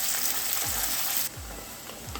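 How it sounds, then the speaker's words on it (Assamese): Chopped onions fry in a pan for a chicken curry, giving a steady loud sizzle, with a few soft stirring scrapes and a slight drop in level partway through. "এইখিনি আমি অলপ কালাৰটো চেঞ্জ হোৱালৈকে ভাজিব লাগিব"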